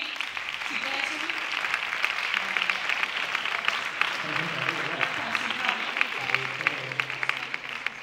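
Audience applause at a short film awards gala, a steady dense wash of clapping throughout with a voice speaking over it.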